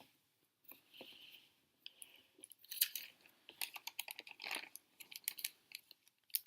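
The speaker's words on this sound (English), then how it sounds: "folding it on top of itself, making your crease" Paper being folded over on itself and creased flat, a run of soft crinkles and sharp rustling presses, quiet and close with brief pauses between strokes.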